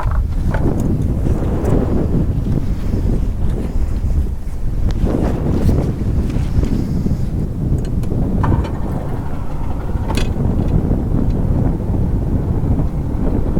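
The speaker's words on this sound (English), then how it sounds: "The wind was just so bad" Strong gusty wind, about 20 mph sustained, buffets a microphone on a fishing boat, producing continuous loud low rumbling roar and flapping noise throughout.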